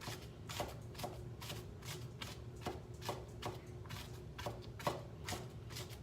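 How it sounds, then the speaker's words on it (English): Knife chopping onions on a cutting board, a steady run of sharp, evenly spaced chops at close range, about a dozen strikes over a low background hum. "Be careful when you're cutting up onions"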